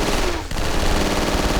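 A Sig Sauer assault rifle in the shooter 007: Nightfire, firing in one loud, unbroken automatic burst with rapid, dense shots and a short dip partway through.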